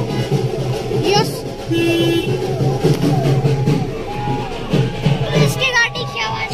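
A village vehicle's horn toots in several short, loud blasts over a busy roadside, with crowd chatter and people talking close by throughout.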